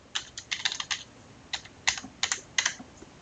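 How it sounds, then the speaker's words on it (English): Keys clatter on a computer keyboard as a password is entered during a wireless network setup, a quick irregular run of close, crisp keystrokes in short bursts with brief pauses, alone with no voices. "we type in Cisco123"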